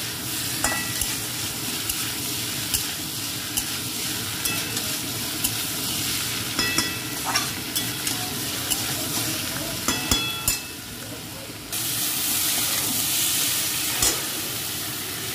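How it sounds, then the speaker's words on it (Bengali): Potol posto with tomato stirred and frying in a pan, a steady close sizzle with scraping strokes of the spatula throughout, the frying hiss growing louder near the end. "আবার ভালো করে নাড়াচাড়া করে নেব"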